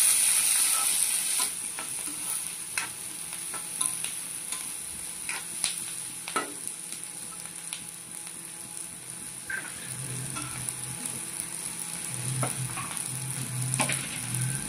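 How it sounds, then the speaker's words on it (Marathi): Red and green chillies fry in a pan as Chicken Tava Kabab is prepared, a steady close sizzle with scattered stirring scrapes and clicks throughout. "आणि 2-3 लाल मिर्च आणि 2 हिरव्या मिरच्या याला परतून घ्यायचं छान।"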